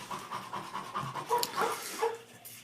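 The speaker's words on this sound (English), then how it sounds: "Why is your dog upset with you? I hear him barking." A dog in a front yard pants rapidly and rhythmically at close range, with a few brief whiny vocal bursts mixed into the breathing.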